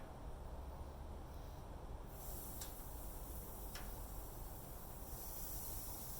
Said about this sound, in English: Satisfying sizzle when it first goes on.